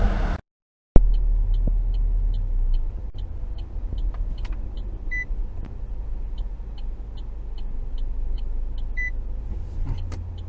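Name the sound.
Opel Grandland car self-parking with park assist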